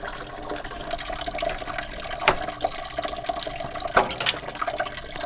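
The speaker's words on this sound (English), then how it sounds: "Now don't break that yet, we're still draining the fluid." Coolant drains out of a disconnected lower radiator hose on a Toyota 4Runner or Tacoma, a soft continuous trickle and splatter of liquid with a couple of sharper drips or clanks, fairly quiet and without voices.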